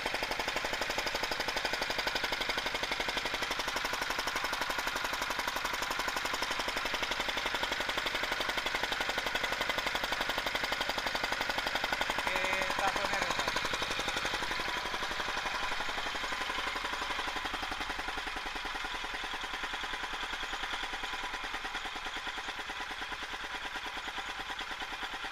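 A smoking diesel tractor engine runs continuously for the whole stretch with a harsh, dense, knocking clatter, heard close and loud; the tone shifts and drops slightly partway through.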